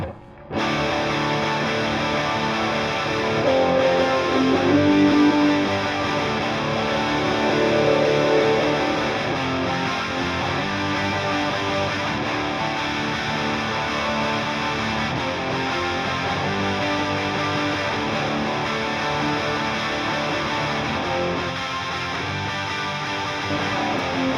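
Heavily distorted electric guitars play together in a thick, sustained mix, loud and continuous throughout.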